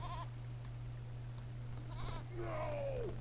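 A goat bleats in the video game There Is No Game. Short wavering calls come at the start and near the middle, then a longer sliding cry, all over a steady low hum.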